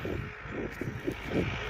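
A steady tractor engine drone with a low rumbling chug, moderately loud and continuous, with wind noise over it, outdoors at a kite-flying field.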